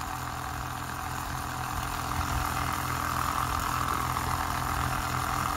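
A small electric motor spinning at about 10,000 RPM makes a steady, even whine with a faint hum beneath it, holding constant and fairly quiet throughout, with no voices.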